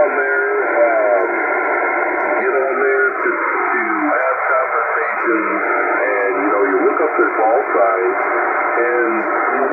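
Amateur radio transceiver audio, a Kenwood TS-590S compared with a Yaesu FT DX 1200, plays steady band-limited hiss and chatter while a manual notch filter sweeps down and back up through the passband, loud and continuous.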